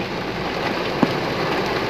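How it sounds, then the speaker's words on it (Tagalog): Heavy rain pours down in an urban street, a dense steady hiss close by, with one brief tap partway through. "malakas na naman yung ulan"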